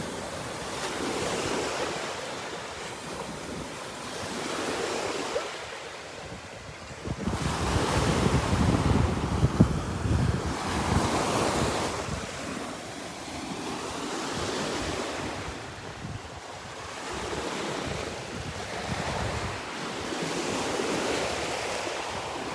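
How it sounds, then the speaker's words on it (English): Ocean waves surge and break on the shore in repeated swells on a windless day, rising and falling in loud washes of surf with a steady hiss between them, close by and with no voices. "there's no wind and all these waves"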